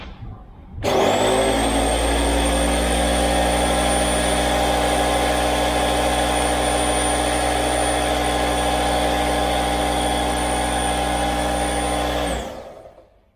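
A Parkside PKZ 180 C5 piston air compressor starts abruptly and runs loud and steady for about twelve seconds with a constant mechanical drone, then winds down and stops.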